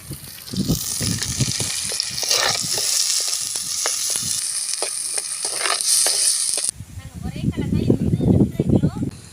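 Onion paste for prawn masala sizzles loudly and steadily in a clay pot, with occasional stirring scrapes, while a person talks over it at the start and again near the end.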